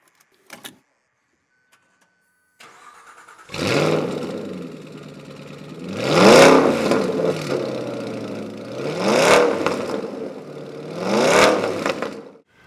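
An Aston Martin Vantage GT8 sports car engine revs hard several times in succession through a titanium exhaust, each rising roar swelling and falling away, loud and close with a raspy exhaust edge.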